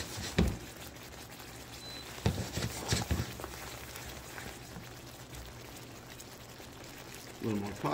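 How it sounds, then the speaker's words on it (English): Starchy pasta water is poured into a pan of creamy vodka sauce for rigatoni, with a few short splashing pours standing out against a quiet kitchen background. "A little more pasta water."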